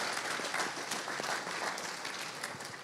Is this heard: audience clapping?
yes